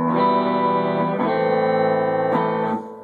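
A sustained electric guitar chord through a Dynacomp compressor pedal rings out with smooth, even compressed sustain, then is restrummed twice, each chord held evenly at steady loudness.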